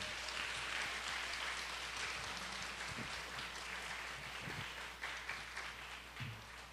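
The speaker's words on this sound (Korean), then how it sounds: "우리 박수 한번 드릴까요?" Congregation clapping at a Korean church's Sunday afternoon youth-department dedication service, a faint, diffuse, continuous patter of hands under a low background hum, with a few soft thumps.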